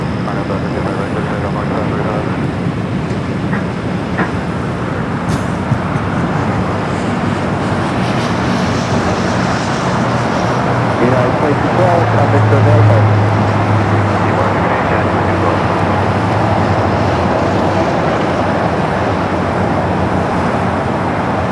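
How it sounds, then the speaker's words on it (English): A British Airways Boeing 777-300ER jet takes off from LAX runway 25 right: a loud, sustained engine roar that swells over the whole stretch, with a voice talking over it and traffic noise beneath. "British Airways 777 up next. Flight 283 coming from London Heathrow, the 777 at 300 ER."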